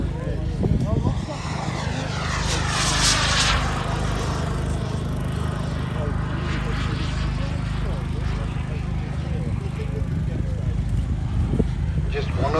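A large-scale RC F-16 model jet with a turbine engine roars past at a model airshow, a loud continuous whine that rises and sweeps with the pass, with a voice commentating over it.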